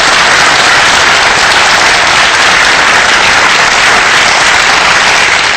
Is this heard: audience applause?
yes